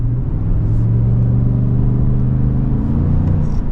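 A Chevy Silverado ZR2 pickup's engine hums and rumbles steadily from inside the cab under acceleration, a low drone that holds even throughout with no talking.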